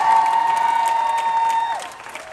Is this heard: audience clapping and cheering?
yes